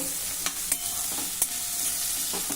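Onion sautéing in a pan for a Maharashtrian mung-wadi curry, with a continuous close sizzle broken by several sharp scrapes and stirring clicks, and no voices.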